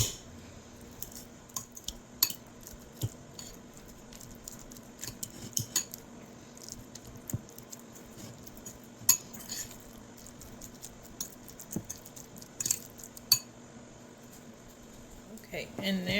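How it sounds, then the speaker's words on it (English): The back of a fork mashes avocado against a bowl with scattered soft taps and scrapes of metal, irregular and fairly close, while a person talks over the top. "Give this a good mash with the back of our fork until it's nice and creamy."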